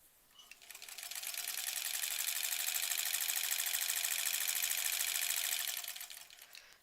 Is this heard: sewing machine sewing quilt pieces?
yes